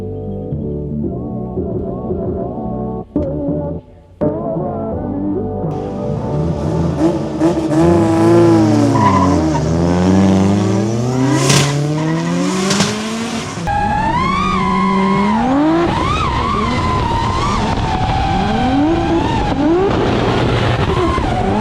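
Drift car at a Japanese car show sliding through a run, engine revving hard with rising and falling pitch and tires squealing, loud and sustained over crowd ambience.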